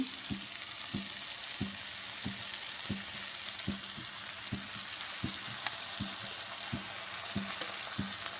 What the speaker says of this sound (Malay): Sekarang Miss nak masukkan cili giling ya.